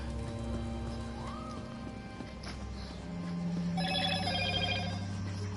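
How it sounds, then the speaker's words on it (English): A phone notification chime rings out as a clear tonal sequence over busy game audio from The Elder Scrolls Online, with hoof-like clopping and layered background effects continuing underneath. "I thought I silenced my notifications"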